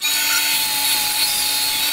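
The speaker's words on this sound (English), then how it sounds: "millimeter wide rip. Admittedly, only in a piece of inch-thick softwood" A cheap bandsaw rips a narrow cut through inch-thick softwood, giving a steady, loud motor whine and cutting hiss that holds evenly for the whole stretch without any break.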